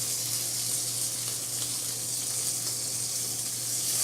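Steady, even sizzle of steak frying in hot oil in a pan, a bright crackling hiss with a low hum underneath, constant and close.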